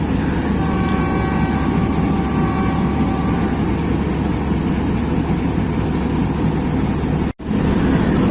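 A guard's whistle sounds on the curved Rawalpindi platform as the Mehar Express prepares to leave for Multan, a faint sustained tone lasting a few seconds beneath the loud, constant rumble of the locomotive cab.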